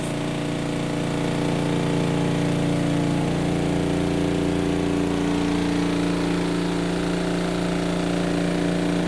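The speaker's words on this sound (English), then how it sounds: "As you can see, it just will drain while it's spinning." A Costway twin tub portable washer spins while it drains, giving a loud, steady motor hum with a rough, even drone that holds without a break, with no voices.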